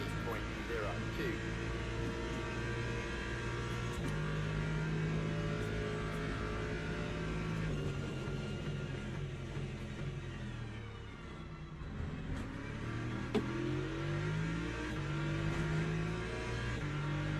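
Race car engines, including a BMW, drone and rev steadily in Le Mans Ultimate, a continuous close hum of racing traffic under a commentator's talk.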